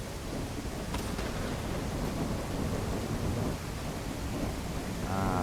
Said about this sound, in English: Ooh, rain effects.